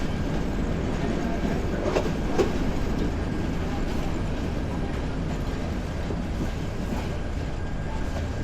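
The Mymensingh Express rumbles into Chinki Astana railway station, a steady low roar of wheels and carriages with faint clatter, close and continuous, with wind buffeting the microphone.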